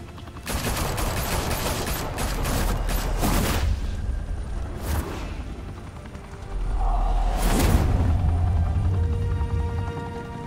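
Dense automatic gunfire in Batman: The Telltale Series: loud, sustained bursts from several weapons with heavy low rumble, a short lull, then another intense volley with sharp cracks layered over a booming roar.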